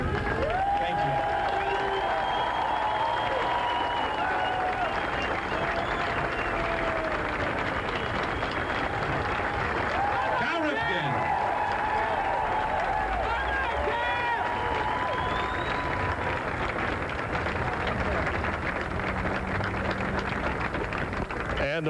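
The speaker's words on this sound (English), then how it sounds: "they have, by default, given him another standing ovation" A Baltimore crowd gives Cal Ripken a standing ovation at his 1991 parade, with dense, sustained cheering and applause that stays loud for the whole stretch, and a voice talking over the roar.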